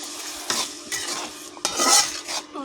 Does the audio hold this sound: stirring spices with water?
yes